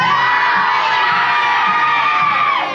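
A crowd of boys and girls on board a ferry cheers loudly about the Mario Kart racing game, a steady, enthusiastic wall of shouting young voices with scattered whoops throughout.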